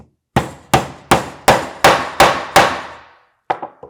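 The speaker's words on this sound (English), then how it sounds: "let's finish it off and hammer in the last nail" Hammer driving a nail into a wooden planter box: seven evenly spaced sharp, close blows with short ringing decays, then a pause and a few lighter taps.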